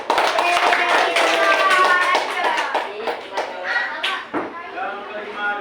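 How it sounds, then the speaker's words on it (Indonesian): A classroom of students clapping hands during a role-play lesson, a burst of quick, sharp claps that loosens into scattered taps, with children's voices talking over it. "Oke, tepuk tangan"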